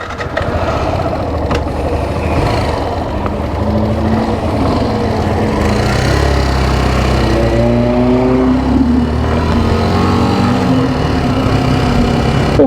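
Motorcycle engine running steadily during compulsory basic rider training on a road, a continuous mid-pitched drone that rises and falls with throttle as the bike pulls away toward a left turn at a junction.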